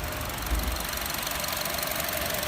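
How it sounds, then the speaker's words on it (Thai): A Honda City car engine idles steadily, a constant low rumble with a faint ticking, close by and with no voices. "เครื่องเดินเรียบนิ่งนะครับ"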